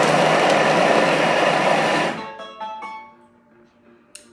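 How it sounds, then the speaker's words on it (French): A Thermomix pulverising pink Reims biscuits at speed 5 gives a loud, dense whirring roar for about two seconds, then cuts out. Faint rattling and a soft clunk follow in the quiet. "on va juste la mixer 3 secondes vitesse 5"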